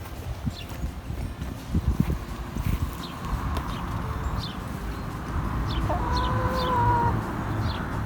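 Chickens cluck in scattered bursts at a shared communal henhouse against steady outdoor background noise, with faint footsteps or knocks underneath.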